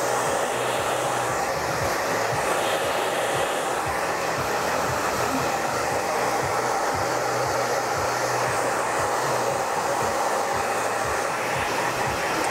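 Hair dryer blowing steadily and loudly at close range while drying a man's fringe after a haircut, a continuous rushing whir with no talking.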